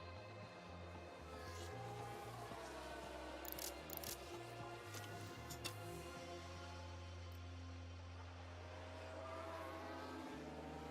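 Formula 1 race car engine from the video game F1 Manager at the Singapore Grand Prix, a sustained droning roar with shifting revs as the car spins out, fairly steady throughout.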